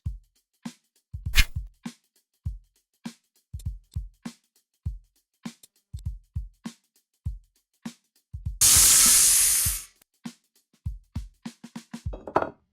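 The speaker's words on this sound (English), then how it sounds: "Listen to the steam hiss." A loud, steady steam hiss bursts in for about a second amid a series of short knocks and clatters, then cuts off abruptly.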